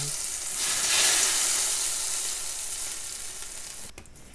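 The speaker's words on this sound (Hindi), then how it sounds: "अब मैं इसमें ये देखें, ये तड़का लगाया मैंने।" Loud, steady sizzling as a hot oil tempering is poured into kadhi curry, swelling at first and then slowly fading, ending with a brief clatter.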